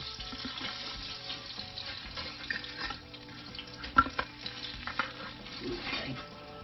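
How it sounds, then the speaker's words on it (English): Flour is stirred into hot oil in a pan for chicken fried steak gravy, with a soft continuous sizzle, scraping stirring strokes and a few sharper clacks of the utensil against the pan. "I'm adding my flour to my oil."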